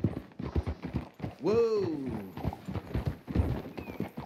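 Horse hooves clip-clop steadily in Red Dead Redemption 2, with a loud rising-and-falling whinny in the middle, all mixed under ongoing talk and a brief exclamation.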